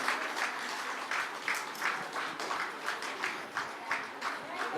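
Guests applaud steadily through the cake cutting at a Nepali Christian wedding, the clapping dense and continuous, with a voice briefly heard over it.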